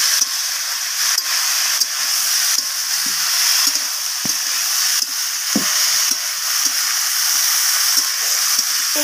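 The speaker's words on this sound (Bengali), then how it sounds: "তো এইভাবে আমি কষাতে থাকবো সব কিছু সবজিগুলোকে তেলের সাথে।" Vegetables for a spinach dish sauté in hot oil, a loud, continuous sizzle and hiss up close, broken by regular scraping and tapping as they are stirred in the pan.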